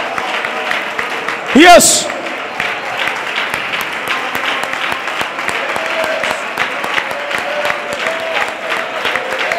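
Church congregation applauding, a dense, loud wash of clapping that continues throughout, with someone briefly shouting over it near the start.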